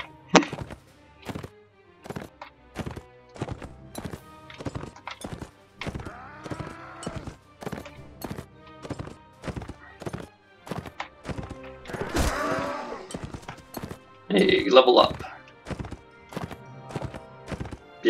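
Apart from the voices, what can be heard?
horse galloping in video game Mount & Blade Warband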